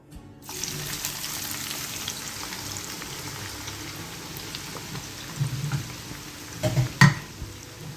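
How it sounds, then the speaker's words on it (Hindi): Two to three large onions frying in a pan over high heat for mutton biryani, a steady close sizzle throughout with a few brief clinks of stirring utensils toward the end. "मैं तकरीबन ये 2 से 3 अदद मेरी बड़ी प्याज है जिसको मैं फ्राई कर रही हूँ"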